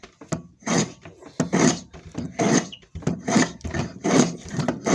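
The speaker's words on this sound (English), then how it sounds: "using also a record plane that I've restored, I'm just going to" A restored Record hand plane knocking the corners off a wooden pen blank clamped for turning, a series of close, rhythmic rasping strokes repeating roughly every half second.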